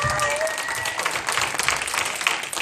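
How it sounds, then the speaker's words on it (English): A church congregation at a live poetry event applauds itself, a lively wash of clapping mixed with crowd voices and cheering that stays loud throughout. "Y'all give yourself a nice round of applause."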